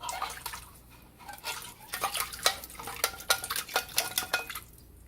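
A spoon scraping soup out of a metal can for crockpot chicken and gravy, a run of quick metallic scrapes and clinks that grows busier and louder before trailing off.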